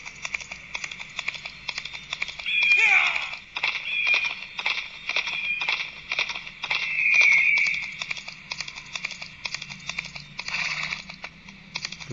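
Horse in a western gunfighter video game, hooves clip-clopping in a steady rhythm through the whole stretch, with a couple of louder swells that may be neighs over a constant game background.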